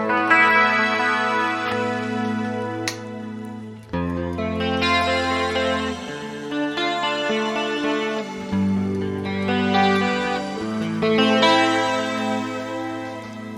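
Electric guitar through a Sonicake Matribox multi-effects unit on a clean, undistorted tone with shimmer added, ringing chords struck several times, each sustaining with a bright shimmering tail, played alone.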